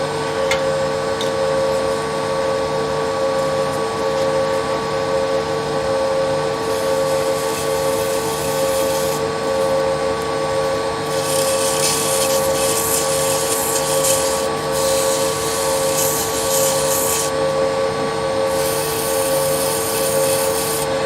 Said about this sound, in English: now we'll come back and sand in this area